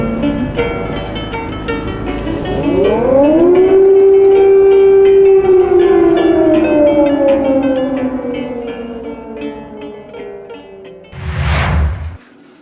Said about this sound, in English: an air alert started in the city and a siren sounded